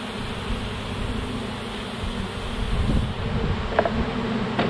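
Honey bees buzzing around an open hive, a close, steady drone of many wings with some light handling noises.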